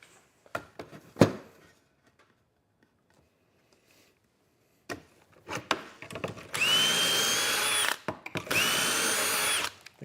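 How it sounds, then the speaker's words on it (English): A power drill bores holes into a wooden bed frame piece for a Ford Transit dinette: scattered taps and handling noises, then two loud, steady whirring runs of the drill close by. "let's go drill this one out real quick"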